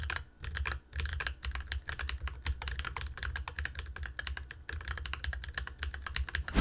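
Fast typing on a keyboard fitted with lubed Gateron tactile switches, a dense continuous stream of close, crisp keystroke clicks with no talking.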